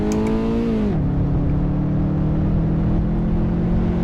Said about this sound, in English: we're using a car that's currently making 30 horsepower